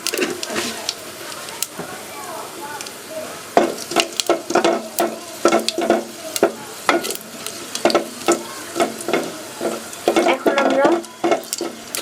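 Cumin seeds dropped into browned chopped onions frying in a little oil in a pot for beef bhuna, with a steady sizzle and repeated scraping stirs of a spatula, plus a few clanks against the pot.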